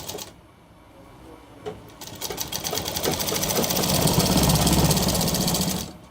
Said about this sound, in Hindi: तो देखिए दोस्तों, इस तरह हमें सिलाई लगानी चौक पट्टी के।